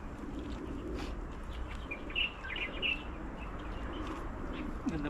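Birds chirp near a dam in Taiwan, with a few faint high calls in the middle of the clip over a low background hum and murmur.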